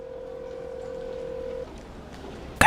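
A telephone being dialed gives a steady tone that stops, a quiet pause, then a short sharp burst of a keypad tone at the end, nearby with no talk.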